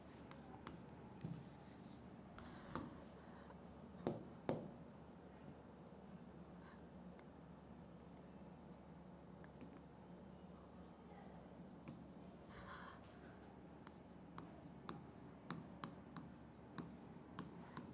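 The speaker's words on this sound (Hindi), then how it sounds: "मैं यहाँ पे लिख देती हूँ, मैं यहाँ पे लिख लेती हूँ" Handwritten notes being written during a biology lesson on fertilisation, faint, intermittent scratching strokes with occasional sharper taps, quiet and close with only faint background murmur.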